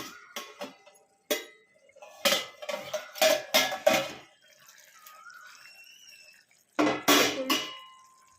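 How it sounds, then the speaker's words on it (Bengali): A metal lid comes off a cooking pot of matar paneer with a few clinks and clatters, then a quiet pause before more utensil knocks. "দেখি ঢাকা খুলি"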